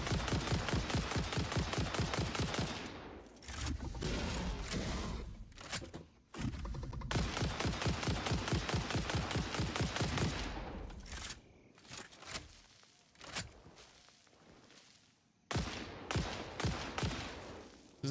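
Rapid bursts of video game gunfire pour into an armored, carapaced enemy, dense automatic volleys with brief pauses between strings of shots, loud and close.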